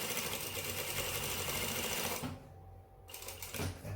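A sewing machine stitches a pants seam at about 2 mm stitch length, running steadily and loudly for roughly two seconds before stopping, with a brief burst of stitching again near the end.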